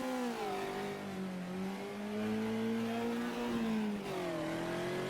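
A Volkswagen Fusca race car in a Brazilian touring car racing game revs hard through a short first gear, its engine note rising, dipping on a shift, then climbing again, loud and steady without talk.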